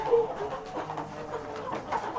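A local village rooster clucks and squawks in short agitated bursts while someone catches it, the calls fairly faint against light background noise.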